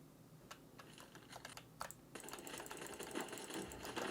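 Keys on an ASUS ROG Strix Scope RX TKL Wireless Deluxe gaming keyboard clatter in quick irregular taps, getting denser and faster partway through, fairly quiet and close with no talking.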